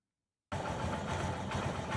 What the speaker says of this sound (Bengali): এখন খেয়াল করবেন আমাদের ইঞ্জিনের সাউন্ডটা একদম যেরকম ব্র্যান্ড নিউ ছিল সেরকম হয়ে গেছে।